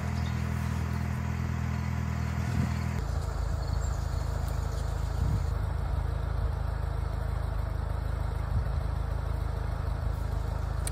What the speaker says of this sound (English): You can hear the tractor engage the drive on the post driver here.